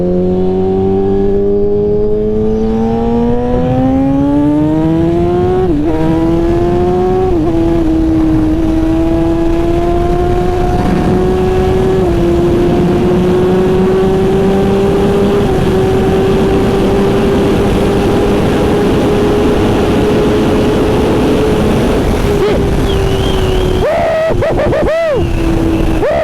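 A motorcycle engine held at speed around 5,000 RPM, a loud sustained drone with a steady pitch that shifts slightly with throttle changes, mixed with heavy wind rush.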